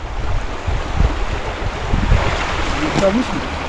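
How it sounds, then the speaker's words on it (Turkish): Flowing water rushes in a steady, loud, broadband wash, with gusty wind buffeting the microphone throughout. A voice is faintly audible beneath it. "O zaman geldiğimizde su bu kadar akmıyordu. Şimdi daha güzel akıyor."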